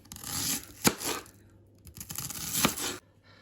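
A knife slicing onion for a shashlik marinade, giving a steady run of close, crisp cuts and scraping strokes with a couple of sharper chops, no talking.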